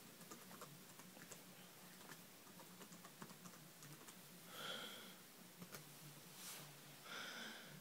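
A password is typed on a computer keyboard in a quiet room, with a rapid run of soft, faint key taps and a few short beeps toward the end.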